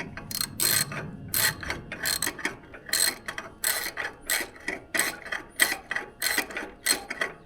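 A ratchet wrench tightens the gear lever bolt on a motorcycle fitted with an SW-Motech copy lever, giving a steady series of sharp, close clicking bursts in quick rhythmic strokes with no talk.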